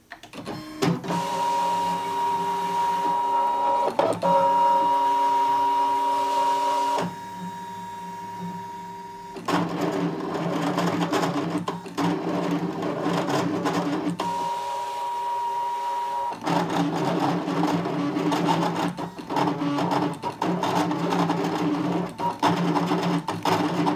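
A ScanNCut CM cutting machine slices flex vinyl, giving a steady motorized whirring with tonal hums and short pauses as the blade head moves, loud and close with no talk.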